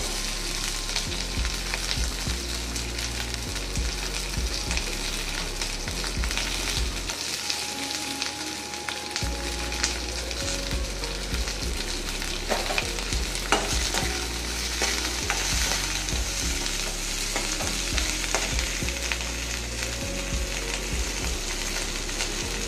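Garlic and onion frying in hot oil for a Bengali rohu fish-oil vegetable curry, a loud continuous sizzle with repeated scraping and stirring strokes throughout and a brief quieter moment midway.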